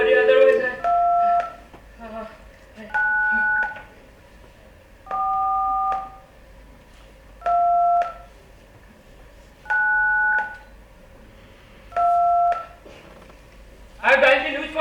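Touch-tone telephone keys pressed on stage in a play, a series of about six steady two-note dialing tones spaced a couple of seconds apart, with soft voices between them.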